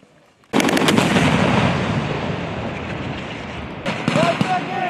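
Marines firing weapons during a field exercise at Camp Lejeune: after a brief quiet start, a loud rapid burst of gunfire erupts and continues as sustained crackling volleys, with a second sharper burst near the end.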